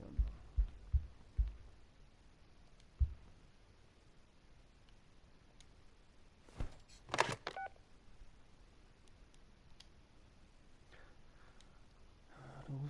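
A phone number being dialed in the video game Yesterday Origins: a quick burst of touch-tone keypad beeps in the middle, preceded by a few low thumps and followed by quiet room hum.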